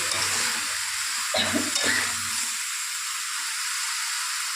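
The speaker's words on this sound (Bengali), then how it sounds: "এক চামচ কাঁচা লঙ্কা বাটা দিয়ে যখন আমি সবজিগুলোকে জল ঝরিয়ে নিয়েছি সেগুলো দিয়ে দেবো" Drained vegetables sizzling in a frying pan with green chili paste and cumin paste, a steady close hiss of frying with brief stirring clatter partway through.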